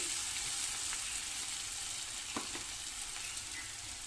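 Dry fish frying in a pan, a steady even hiss of oil throughout with one or two faint stirring clicks, close and fairly quiet with no voices.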